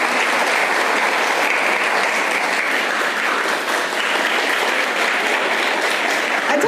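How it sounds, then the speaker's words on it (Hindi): Students at a girls' inter college in Dehradun clap together in sustained, even applause at an outdoor-style school event, dense and steady for several seconds without pause. "एक बार तालियां बजा दो सर"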